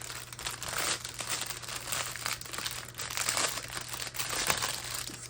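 A well-protected package for an Easter diamond painting kit being opened, packaging crinkling and rustling continuously at close range with a low steady hum beneath, no talk.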